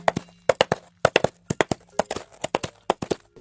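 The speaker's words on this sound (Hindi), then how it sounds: "क्योंकि असल में ये तो नारियल के छिलके की आवाज है।" Coconut shell halves clapped together as foley for horse hoofbeats, a close, crisp clip-clop in steady galloping groups of two and three knocks, repeating evenly over a few seconds with nothing else heard.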